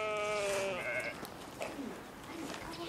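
Sheep and goats bleat in a rural setting in Kaufbeuren, Allgäu, one long wavering bleat up front followed by a few fainter, shorter calls from several animals nearby.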